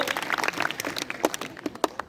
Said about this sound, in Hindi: गुड, तालियां बजा दो